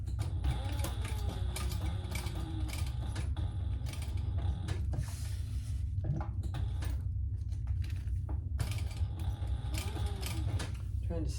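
A sewing machine stitches through a sling crossbody bag, giving a busy mechanical whir with rapid ticking bursts and short pauses, fairly close and moderately quiet.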